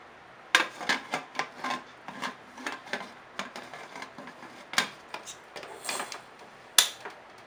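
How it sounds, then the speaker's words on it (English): Metal lid clatters and clicks as it is fitted onto a pressure cooker in a village kitchen. Several sharp, close taps and scrapes are spread unevenly over a few seconds, and the sounds are fairly quiet. "let's now cover our pressure cooker"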